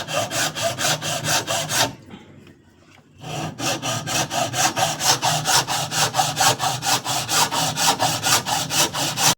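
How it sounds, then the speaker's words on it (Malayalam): A hand saw cuts a coconut shell to make a cup, with fast, even back-and-forth rasping strokes close by, pausing for about a second before the rhythmic sawing resumes. "കൈ വേണ്ടിയിട്ട് ചിരട്ട കട്ട് ചെയ്യാൻ"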